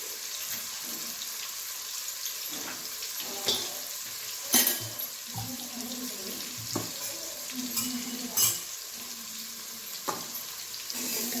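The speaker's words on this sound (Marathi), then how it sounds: "त्यामध्ये राई जिरं हिंग हे सगळं मी त्यात टाकणार आहे" Mustard seeds, cumin and asafoetida hit hot oil in a pan, giving a steady low sizzle with scattered sharp pops and crackles and occasional stirring knocks, faint and continuous throughout.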